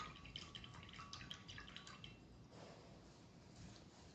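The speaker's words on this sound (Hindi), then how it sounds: "अब मैं कलर चेंज करने के लिए ब्रश को धो के" Acrylic paint brush being rinsed and swished in a container of water, giving soft, faint, close-up watery drips and splashes that run unsteadily through the clip with no talking.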